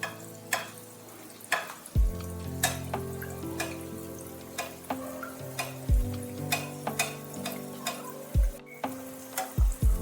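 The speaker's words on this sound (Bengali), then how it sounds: "এইভাবে তেলের ছিটে দিতে দিতে যখন ভাজা হয়ে যাবে তখন আস্তে করে উল্টে দিতে হবে।" Kheer and palm malpua fry in oil while oil is splashed over the top, a close continuous sizzle with repeated sharp ladle taps and clicks, plus a steady tonal hum underneath.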